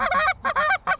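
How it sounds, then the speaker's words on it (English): Wild geese honking in a goose-hunting field in New York, several loud, close calls in three bursts separated by short gaps. "I just found geese."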